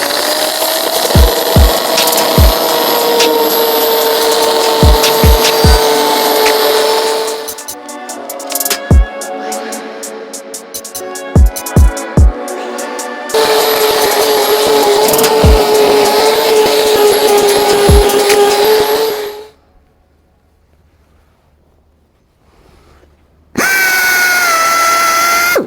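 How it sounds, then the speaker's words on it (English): A rotary polisher buffs the side of a show car, droning loudly with a steady whine. It cuts off and restarts several times, and sharp knocks and clicks break in between passes. "we start the side of the car and we start buffing down the side"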